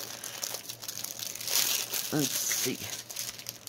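A plastic bag holding a 30 by 40 diamond painting kit crinkles and rustles close by, steady handling that grows busier midway, while a person speaks briefly over it.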